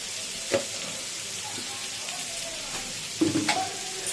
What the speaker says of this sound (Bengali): দিয়ে এবার এটাকে হালকা একটু ভেজে নেবো।